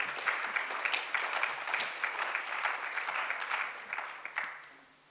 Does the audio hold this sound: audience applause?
yes